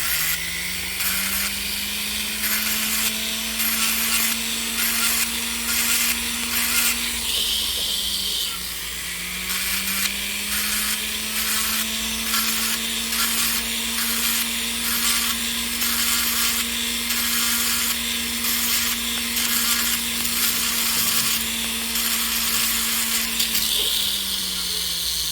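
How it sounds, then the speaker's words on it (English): A hand file rasps steadily against the inside of a metal workpiece in even repeated strokes, close and continuous, with a steady mechanical drone underneath and no talking. "let's finish filing this inside down here."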